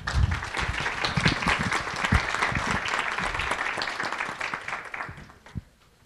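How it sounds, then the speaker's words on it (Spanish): Audience at a panel session on victims of violence claps steadily for about five seconds, a dense, close round of applause that fades out with a few last scattered claps. "le damos un aplauso, por favor"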